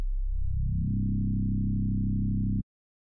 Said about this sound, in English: We're gonna bring the level of oscillator B all the way down, and we're gonna add FM into oscillator A.